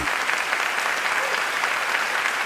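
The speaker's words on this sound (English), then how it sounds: "And the crowd goes wild" A crowd applauds and cheers for a music producer, a dense, continuous wash of clapping that holds steady and fairly close for the whole moment, with no voice standing out.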